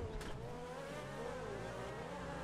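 A run-down car in GTA V accelerates in the game, its engine drone rising steadily and loudly for the whole stretch with a brief burst of noise near the start.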